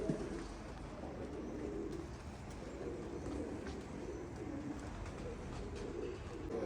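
Pigeons cooing in a loft, low throaty coos repeating in a soft rolling rhythm over steady background noise, close and continuous.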